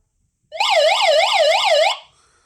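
An emergency dynamo radio sounds a loud, fast warbling siren, about five quick rising-falling cycles in just over a second, close and piercing, then cutting off abruptly.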